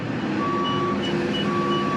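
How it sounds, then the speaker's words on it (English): A low-side tri-axle dump truck sounds nearby as a steady diesel engine rumble, with intermittent tonal reversing beeps over the top, while reclaimed asphalt is loaded. "This is a low side tri-axle dump truck"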